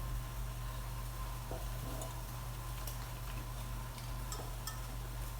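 Apple cider vinegar deglazes a hot pan that held fish, giving a faint, even sizzling hiss with a few soft clicks over a constant background hum.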